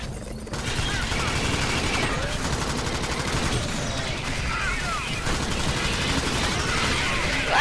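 Rapid gunfire from a co-op alien shooter, Alien Swarm: Reactive Drop, rattles on steadily and densely with game effects layered in, while a voice talks faintly underneath.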